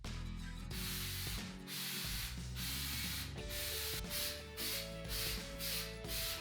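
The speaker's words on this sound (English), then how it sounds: "The finishing touches are to apply a wall texture. It's an orange peel texture in a can," An aerosol can of orange peel wall texture sprayed onto a bathroom wall, giving several long loud hissing bursts with short breaks between them and a faint rattle. The spraying is close and there is no talk.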